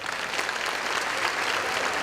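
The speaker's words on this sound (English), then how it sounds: "Can I have a nice round of applause for the folks here at the Pontchartrain Center?" A full hall audience at the Pontchartrain Center claps during an awards program, a steady, evenly dense round of applause filling the brief moment without speech.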